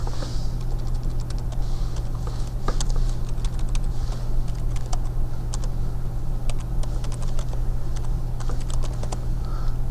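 Someone types on a computer keyboard, a close run of quick irregular key clicks with brief pauses over a steady low electrical hum.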